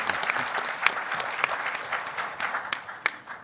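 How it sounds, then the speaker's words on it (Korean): Audience applause at a Kwanhun Club debate forum welcoming Saenuri Party candidate Chung Mong-joon, a steady moderate clapping with a few sharper claps standing out, heard alone without talk. "큰 박수로 관훈토론회 초청에 응해주신 정몽준 후보를 환영해 주시기 바랍니다"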